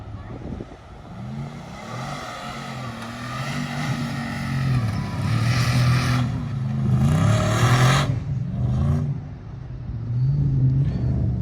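Supercharged and turbocharged Nissan Patrol Y62 engines working on sand at Beachport, a loud steady rumble with rising revs that swells toward the end, with a voice briefly audible beneath the engine noise.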